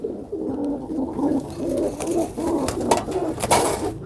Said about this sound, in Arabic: هنشوف هنا اهو الحمام بدأ يلعب، بيلعب في الارض